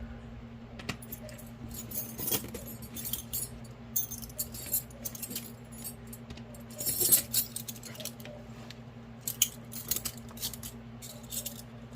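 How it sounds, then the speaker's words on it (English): Small metal crochet hooks, ranging from very small to very large, clink and rattle faintly as they are handled in a set, with scattered light taps over a steady low hum. "These here are all my hooks from smallest to very, very large."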